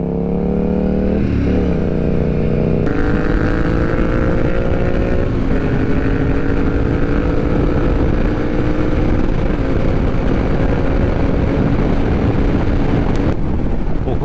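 A Yamaha MT-07 motorcycle with an open exhaust rumbles loudly and close, its pitch rising and shifting as it revs and moves through gears over a steady roar with some wind noise.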